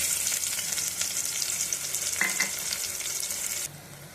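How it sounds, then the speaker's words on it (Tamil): Two sliced onions frying in a pan for kodo millet egg biryani, a loud, steady crackling sizzle with occasional stirring scrapes, cutting off abruptly near the end. "வெங்காயம் நல்லா வதங்கிடுச்சு."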